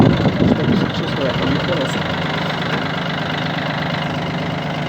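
A used Yanmar AF-22 Japanese mini tractor with a rotary tiller runs its diesel engine at idle, giving a steady, close rumbling drone with a faint knock, unchanging for the whole stretch.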